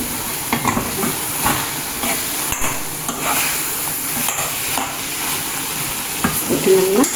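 Coconut stuffing for lavang lata is stirred in a hot pan, a close scraping and rustling stir over a steady sizzle, with occasional clinks of the utensil against the pan.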